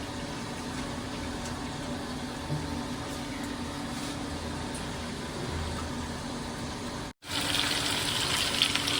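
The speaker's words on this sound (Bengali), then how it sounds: "এগুলো ধুয়ে নেব আলু ধুয়ে নেব" Bottle gourd greens and potatoes are washed in water in a village home in Bangladesh, with a steady wash of running and splashing water that cuts out briefly near the end before resuming.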